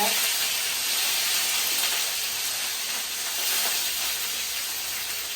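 Fenugreek seeds and curry leaves hit hot oil, giving a loud, steady hiss of sizzling that holds evenly throughout without any talk.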